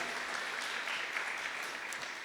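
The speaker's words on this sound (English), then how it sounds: "Give yourselves a huge round of applause." An audience at a Hindu youth summit opening ceremony in Guyana claps steadily, a dense, even patter of applause at moderate distance that holds for the whole stretch.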